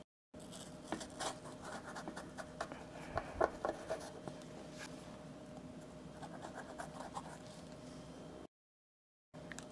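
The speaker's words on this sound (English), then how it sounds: "I'm going to give a cut on the side of the bitter melon" Knife slicing along the side of a small bitter melon, soft scratchy crunching and light scraping taps close up, quiet and irregular, with no talking.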